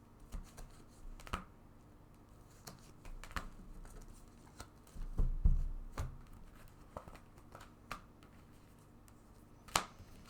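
Tarot cards are shuffled and drawn up close at a quiet table, with sparse soft slaps and flicks scattered across the stretch and a slightly busier shuffle near the middle.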